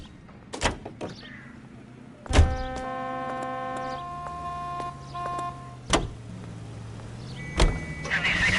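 Late-1940s police car in the LA Noire video game: sharp door slams and clicks, then a steady low engine hum for a few seconds before more door thuds.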